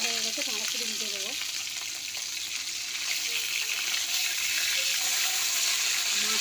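Bogo fish rubbed with salt and turmeric fries in a pan with a steady, close broadband sizzle, and a faint voice is heard briefly near the start.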